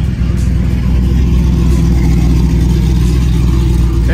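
A cammed V8 muscle car, an SS, idles at a summer car show with a loud, lopey, choppy rumble, steady and close throughout.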